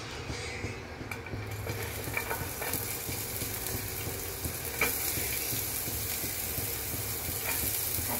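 A close, steady sizzle of onion frying in a pan for an egg bread omelette, broken by occasional scraping stirs and clinks, with no talking.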